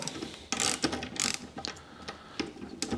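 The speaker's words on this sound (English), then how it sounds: "there's a total of 4 nuts and bolts that we're going to tighten up here to secure the entire transaxle motor and brake assembly to the frame" A ratchet tightens the nuts and bolts that secure the transaxle motor and brake assembly to the frame of a Pride Mobility Victory 10 scooter, in several quick clicking bursts close by.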